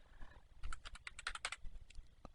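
Quick bursts of keystrokes on a computer keyboard as a document name is typed into Adobe Photoshop CS, about a dozen close, crisp clicks in an irregular rhythm followed by a couple of isolated taps.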